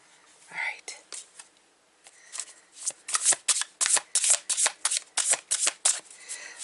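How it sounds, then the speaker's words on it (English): Tarot cards shuffle in quick, crisp riffles close by, a rapid run of papery bursts after a soft whisper at the start. "Let's shuffle them a little bit."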